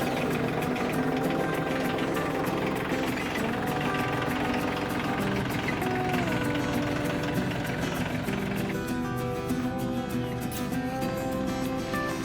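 New tractor engine running at a steady idle, a continuous close mechanical rumble with rapid rhythmic knocking and vibration, unbroken for the whole stretch.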